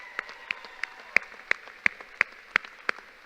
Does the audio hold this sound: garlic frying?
no